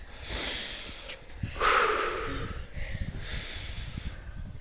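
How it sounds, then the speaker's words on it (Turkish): During an outdoor morning exercise session, a person draws three slow, deep breaths in through the nose, airy hissing inhalations separated by short pauses, close and clear. "Derin bir nefes al."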